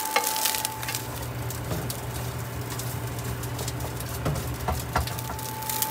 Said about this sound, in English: Sausage is getting nice and browned up, another minute or two